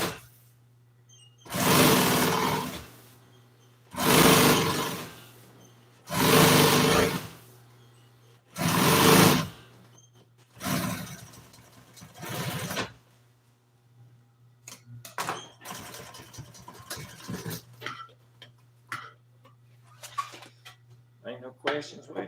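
Bursts from a sewing machine stitching a seat cover piece for a 1955 Chevy front seat, four loud runs of two seconds or so each with short pauses between, then quieter handling clatter and talk under a steady hum.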